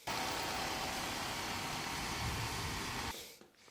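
A car that has just been jump-started with jumper cables idles nearby with a steady, loud, broadband engine drone. The drone cuts off abruptly after about three seconds.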